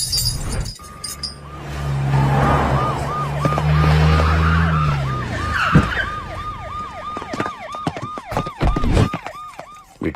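An ambulance siren wails in a rapid, repeating up-and-down yelp, loud and close, over rumbling traffic and engine noise that swells early on, with sharp clatters and knocks toward the end.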